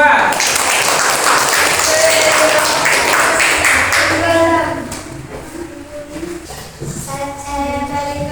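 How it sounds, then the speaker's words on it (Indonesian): Classroom students clapping after a group presentation on Isra Mi'raj, a burst of applause for about four seconds that fades as a voice begins speaking over it. "Ayo beri tepuk tangan untuk kelompok A"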